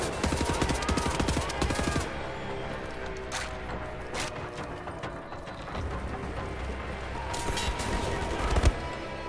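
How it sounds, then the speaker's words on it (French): Gunfire in the video game Wolfenstein The New Order, with bursts of rapid automatic shots opening the stretch and scattered sharp shots and mechanical clanks following, mixed with game sounds. "C'est qui me flingue là?"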